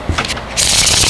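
Tarot cards shuffled by hand in two quick bursts, a brief riffle followed by a longer, louder continuous flutter of cards close by, with no voices.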